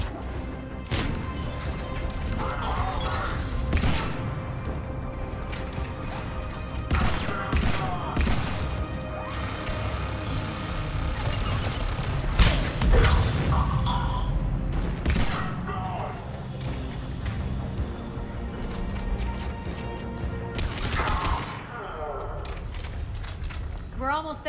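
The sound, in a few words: gunfire at a turret in Mass Effect 3 video game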